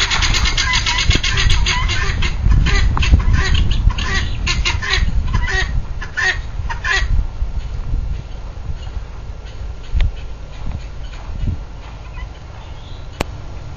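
Guinea fowl calling in repeated harsh, rhythmic cries, loud and close at first and then fading, over a steady low background rumble.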